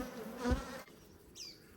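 Honey bees at a hive during an apiary inspection, a dense steady buzz of many bees close by, with a brief louder swell in the middle and no talking.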